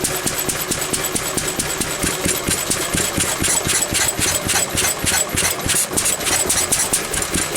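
A pre-electronic engine runs on too weak a fuel mixture, giving a steady, close mechanical clatter with rapid, slightly uneven firing pulses and no talk.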